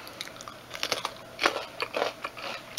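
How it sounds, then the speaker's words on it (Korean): A large raw red chili pepper is bitten and chewed with a run of crunchy bites and crackly chewing, close and moderately loud, and no one speaks. "고추도 먹어보겠습니다. 홍고추."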